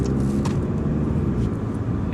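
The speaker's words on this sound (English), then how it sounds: "Just see how it looks from inside here and how the car accelerates" A 2018 VW T-Roc Sport 2.0 TDI in sport mode accelerating through a tunnel, heard from inside the cabin as a steady, loud low engine and road drone that holds evenly throughout.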